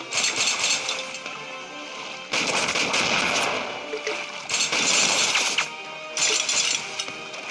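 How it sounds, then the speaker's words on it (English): Rapid machine gun fire in the mobile shooter Ramboat, loud bursty blasts in three long stretches separated by brief dips, with no voices over it. "Machine gun."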